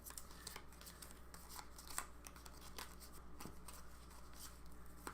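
Wrestler cards from a pro wrestling promoter card game are shuffled by hand, producing soft, quick rustling riffles and flicks in an uneven rhythm, close but quiet, with no talk.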